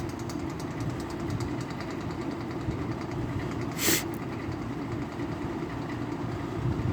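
A box fan runs after a cold start, giving a steady, close mechanical hum with a faint rhythmic knock throughout and one brief brighter scrape midway.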